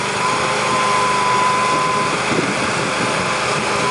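A 2007 Tiger auger bucket on a boom spins into compacted gravel, giving a steady, loud whine of hydraulics and engine that runs without break.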